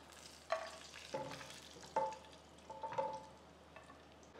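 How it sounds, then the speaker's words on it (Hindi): Dry fruits and raisins roasting in ghee in a kadai make a quiet, steady sizzle, broken by a few soft stirring scrapes and clinks. "1 मिनट के लिए रोस्ट करेंगे, किशमिश डाल देंगे, 1 मिनट मज़ीद रोस्ट करेंगे।"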